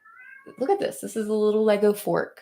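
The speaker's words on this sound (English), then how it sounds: "That is my cat. He is very upset." A cat meows in drawn-out, upset, wailing cries, several in a row and fairly close, while a person talks over them.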